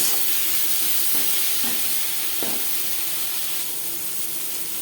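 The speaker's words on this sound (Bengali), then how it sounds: "পরিমাণ মতো হলুদের গুঁড়ো, স্বাদ মতো লবণ হলুদ মশলা পেঁপের সাথে বেশ ভালো করে মিক্স করে দেবো" Papaya being stirred with turmeric, salt and spices in a hot pan for a papaya and pumpkin-stem curry, with steady sizzling broken by a few distinct scraping stir strokes.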